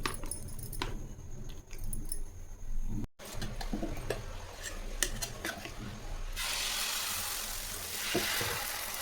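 Egg dosa batter seasoned with salt and pepper goes onto a hot pan, with clattering and scraping, then a steady hiss of sizzling that grows fuller and spreads out in the last few seconds.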